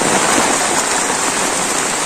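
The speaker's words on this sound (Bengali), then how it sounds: "বৃষ্টিটা প্রচন্ড বেড়ে গেছে" Heavy rain pours down nearby as a dense, steady hiss that never lets up, with no voices.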